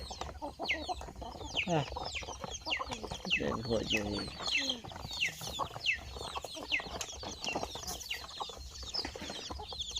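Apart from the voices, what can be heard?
chickens clucking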